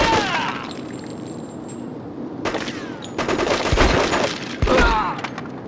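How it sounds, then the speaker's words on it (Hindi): Rapid bursts of automatic gunfire ring out in the PS2 first-person shooter Cold Winter: loud, clustered volleys with sharp single shots between them, and a faint voice now and then underneath. "ये कौन सा तरीका है गोली चलाने का?"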